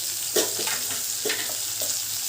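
Crushed garlic, onion and tomato with salt and coriander powder frying in a pan for a homemade masala, a close, steady sizzle with a few rhythmic stirring scrapes.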